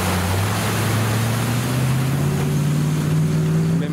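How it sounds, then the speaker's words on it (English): A Rover V8 vehicle fords a river crossing at Rufford Ford, its steady engine drone rising in pitch against continuous rushing, splashing water, loud and close throughout. "Now we'll be able to hear the mighty Rover V8 as it passes through the Ford"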